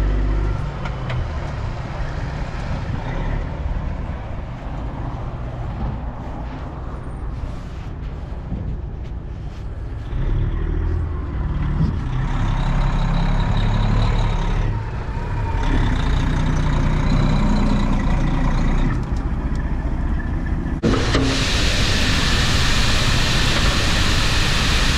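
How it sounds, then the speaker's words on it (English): A truck hauling a load of corn pulls in, its engine a continuous heavy rumble that grows louder and fuller as it nears, ending with a bright burst of rushing noise. "Here comes Kelvin with the first load."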